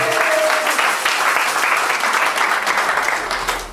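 A congregation at a wedding blessing breaks into loud, sustained applause, dense clapping that holds steady and then tapers slightly at the end, with no talking over it.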